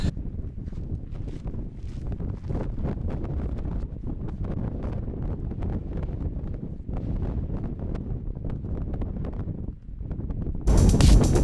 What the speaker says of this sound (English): now there's just wind non-stop